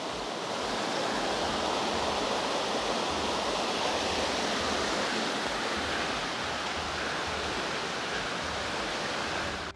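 A hidden waterfall near Burla by Hirakud Dam pours in a steady, loud, close rush of white water that holds unbroken for the whole stretch, with no voices over it.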